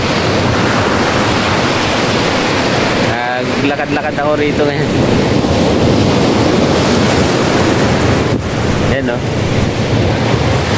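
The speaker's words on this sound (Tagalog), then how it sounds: "Banayad ang dagat ngayon." Gentle sea waves wash steadily onto the beach at Infanta, Quezon, a broad continuous surf with wind buffeting the microphone, while someone speaks briefly over it.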